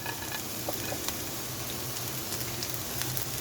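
Cabbage, capsicum and green onion sizzle in a pan, a dense, steady crackling hiss close by with faint stirring clicks and no talk.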